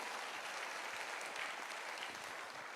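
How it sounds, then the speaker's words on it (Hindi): Steady applause from a large audience at an AWPL gathering, a dense continuous wash of clapping heard from some distance, even in level throughout with no voices over it. "सारे के सारे लोग तालियां बजाएंगे"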